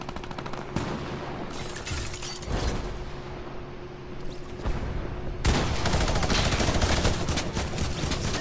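Sustained loud gunfire in Fortnite, with dense automatic shooting and overlapping shots running almost without pause, plus brief breaks near the middle.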